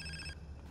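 A mobile phone rings in GTA San Andreas, a short, faint electronic ring tone heard alone that cuts off partway through.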